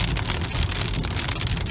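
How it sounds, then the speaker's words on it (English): Big raindrops pelt a car windshield during a monsoon thunderstorm, a dense, loud, continuous patter of hard hits close by, with no voices. "we're seeing some big raindrops. They're huge. Hear that sound when it hits the windshield."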